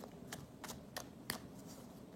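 Tarot cards cut by hand in a few quick, crisp riffling snaps spaced about a third of a second apart, faint and close with a quiet background hiss.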